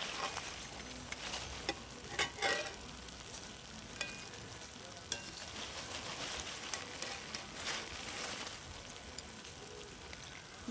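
Mung dal nimki frying in hot oil, a continuous close bubbling sizzle with scattered pops and crackles, steady and moderately loud, with no talking.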